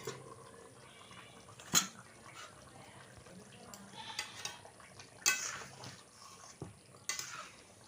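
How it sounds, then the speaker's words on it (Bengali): Metal pot lid clanks in a home kitchen while Bengali chicken kosha cooks, with three sharp knocks spread over a few seconds above a soft, low background hum. "আমি এবার ঢাকনাটা তুলে নেব।"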